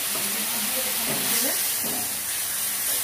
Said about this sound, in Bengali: আমি এখানে সামান্য পরিমাণে জল অ্যাড করে দিচ্ছি